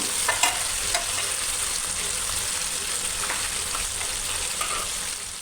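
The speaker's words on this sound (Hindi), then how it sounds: "एक प्याज को फ्राई करके उसमें 1 चमचे अदरक लहसुन का पेस्ट डाल के" Onion frying and being stirred in a karahi, a steady close sizzle with occasional scrapes and clinks of the spoon against the metal pan, no talking.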